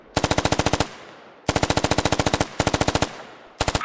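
Suppressing machine gun fire in the video game Squad: four sharp, loud bursts of rapid automatic shots, each burst a quick even rattle separated by short pauses, with no voices.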